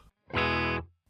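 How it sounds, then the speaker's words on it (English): One electric guitar chord through a clean amp on a Fender Tone Master Pro, bright and fairly dry, holds for about half a second and then fades quickly, with brief noises at the edges. "So we are back to the straight amp."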